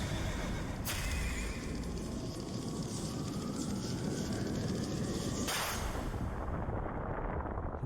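A horse neigh effect from the Bucking Bronco vigor in BioShock Infinite, heard within dense game audio: a loud rumbling, eruptive wash with a whinny rising through it and a sharp burst near the end.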